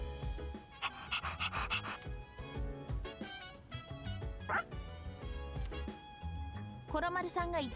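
A dog in the video game Persona 3 Reload pants in quick, rhythmic breaths with a few yips, while a person talks over the game sounds and music.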